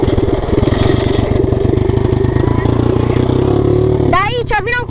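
A motocross motorcycle engine runs loudly and close at a national motocross race in Moreni, holding a steady throbbing idle before a voice cuts in near the end.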